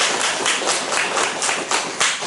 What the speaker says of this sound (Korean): 여러분 박수로 환영해 주시기